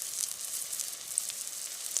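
Sliced onions sautéing in a pan, a steady soft sizzle and crackle held at an even level with a couple of faint pops, close by and alone.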